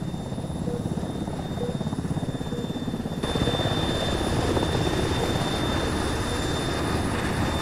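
Steady rhythmic thumping of a helicopter's rotor blades, getting noticeably louder partway through as it seems to come closer, with no talking.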